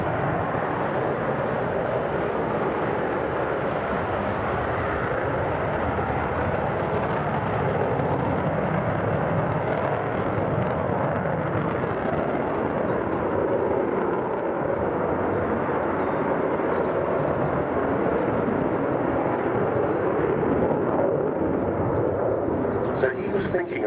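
The Avro Vulcan XH558 bomber flies at the RIAT airshow at RAF Fairford, a deep, continuous, roaring jet rumble that holds steady and loud for the whole stretch, with some faint crowd noise beneath it.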